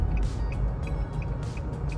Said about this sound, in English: the right blinker's on